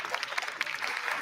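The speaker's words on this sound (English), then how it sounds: "clapping for that" Applause from a US Congress floor session, played back as a recording, comes through as a short, faint patter of clapping with voices talking over it.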